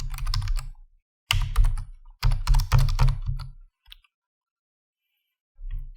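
Typing Swift code on a computer keyboard: bursts of quick, close key clicks in several runs separated by short pauses, ending with a brief final flurry.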